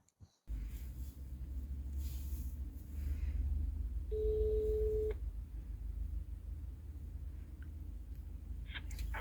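A single steady telephone ringback tone sounds for about a second over a low constant rumble inside a BMW 7 Series E65, with faint clicks around it.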